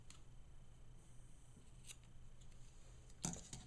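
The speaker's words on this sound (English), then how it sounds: "I'm going to cut my work loose." A single soft scissor snip cuts loom-knit yarn loose, faint against a quiet room hiss, with a couple of tiny handling clicks before it.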